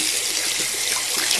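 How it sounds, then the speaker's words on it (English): Sink tap turned on for washing stamps, a steady close hiss of running water splashing into the basin with no voices. "So let's turn the water on."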